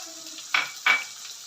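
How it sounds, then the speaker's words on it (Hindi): Edible gum (gond) frying in a pan, with two short bursts of sizzle and stirring over a quiet background hiss, close and fairly loud. "अब हम इसके अंदर डालेंगे गूंदे। चारे गूंदे हैं, ये बाजार से आम मिल जाती हैं। इसको अब फ्राई करें।"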